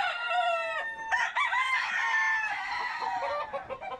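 Chickens cluck while a rooster crows loudly and up close, with long drawn-out calls that repeat and overlap over several seconds.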